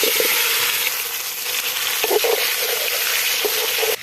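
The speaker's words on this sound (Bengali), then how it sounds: "আমরা গুলো ভাজে নিমু" Hog plums fry in mustard oil with dried chilies in a pan, giving a loud, dense, continuous sizzle up close, with a few soft stirring knocks before it cuts off abruptly.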